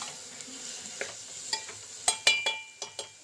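Potatoes and seeds being stirred into a thick spiced gravy in a pan, a series of distinct scraping spoon strokes over a soft background sizzle, growing louder and quicker toward the end, with no talking.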